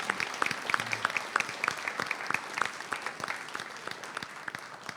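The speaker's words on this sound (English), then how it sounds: "So that also deserves a round of applause." A church congregation at a pastor's ministry celebration gives a round of applause, a modest burst of distinct hand claps that gradually thins out and fades.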